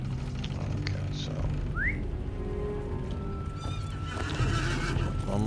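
A horse whinnies and its hooves clip-clop in The Lord of the Rings Online video game, with a whistle-like sweep and background game ambience, steady and moderately loud throughout.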